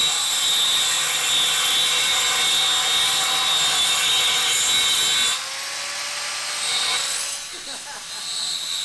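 An angle grinder's wheel grinds a crack out of the metal of a BMW E36, a loud, steady high-pitched whine that drops off partway through and returns more unevenly, with a voice briefly audible.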